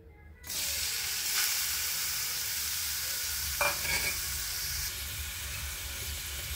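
Grated carrot hitting hot ghee in a pan, starting with a sudden, loud, broad sizzle that holds steady throughout, with a brief scrape of stirring partway through and no voices.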